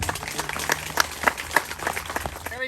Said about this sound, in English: please give them applause and thank them